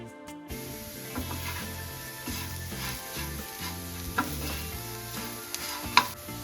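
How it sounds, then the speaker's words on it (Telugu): Potatoes fry in a pan with a steady soft sizzle while a utensil stirs and scrapes them, giving light intermittent taps and one sharper clink near the end, close and fairly quiet. "మంచిగా ఫ్రై అవుతుంది."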